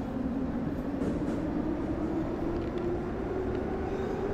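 An old Kiev 81-710 metro train in Gmod Metrostroi pulls away, its steady low rumble and rising motor whine continuous and close, with faint rattles on top.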